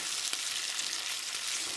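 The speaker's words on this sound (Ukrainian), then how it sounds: "Недовго ми смажимо буквально по 2 хвилини з кожної сторони." Chicken liver fries in a pan for a Berlin-style dish with lemon, giving a steady, dense sizzle throughout with no talking.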